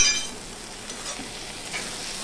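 Spiced ash gourd being stirred in a pan over a low flame, a soft continuous sizzle with faint scraping strokes throughout, moderately quiet and steady, with no voices.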